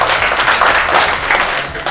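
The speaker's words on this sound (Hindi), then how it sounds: "वाकई एक बार मैम के लिए जोरदार ताली बजा रहे" Loud, dense audience clapping at a kavi sammelan poetry gathering, sustained applause filling the hall for a female poet.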